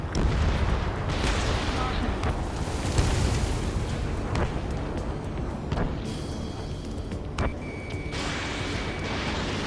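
Aerial combat in the video game Ace Combat 7 over a city: a dense, continuous roar of jets and battle rumble, with scattered sharp gunfire cracks and heavy booms, and voices talking over the din.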